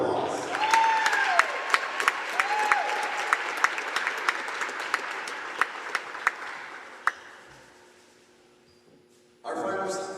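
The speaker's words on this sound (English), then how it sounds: "Please join us in giving Caleb a huge round of applause" A basketball crowd at a college men's game applauds a senior player on senior night, with sustained clapping and some sharp individual claps. Voices run under it before the applause fades out and a voice speaks close by.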